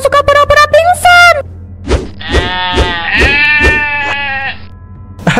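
A goat bleats repeatedly and loudly at close range in a chase scene, with long wavering cries mixed with thumping sounds, in an animated setting.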